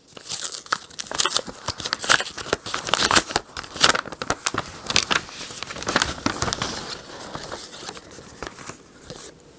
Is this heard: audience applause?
no